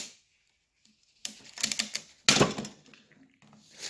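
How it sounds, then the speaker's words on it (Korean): Large heavy-duty pruning shears snapping through a thick, very dry branch, giving a few sharp, close cracking crunches in quick succession after a short silence. "지금 자른 나무가 워낙 건조가 된 상태라서 좀 잘리는 느낌이 좀 부자연스러운데"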